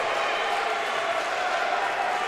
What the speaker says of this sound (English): A lot of this crowd for the Yellow Jackets up on their feet and cheering.